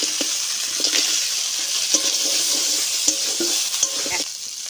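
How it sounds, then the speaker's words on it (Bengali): Crab frying in a spicy masala as it is stirred in a pan, a steady close sizzle broken by occasional scraping clacks of the spoon. "কাঁকড়াটাকে দিয়ে দিব।"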